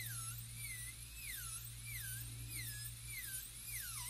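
Dental drill bur cutting away a porcelain-fused-to-metal crown on a tooth, a high-pitched whine that sweeps up and down repeatedly with a low steady hum beneath, continuous and fairly quiet.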